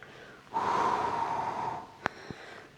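A single long, deliberate breath from a seated breathing exercise, a steady breathy rush lasting over a second, close and fairly soft, followed by a couple of small clicks.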